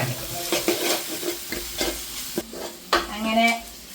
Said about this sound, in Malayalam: എല്ലാം കൂടെ ഒന്ന് കിടന്ന് നല്ലതുപോലെ യോജിച്ച് അല്ലേ, പച്ചമണമൊക്കെ ഒന്ന് മാറി ഉള്ളി ഒന്ന് വാടി ഇത് വരട്ടെ.